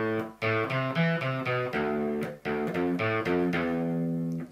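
Distorted electric guitar in drop D tuning plays a riff, a choppy sequence of chugging low notes with brief gaps between phrases, loud and close with no voice.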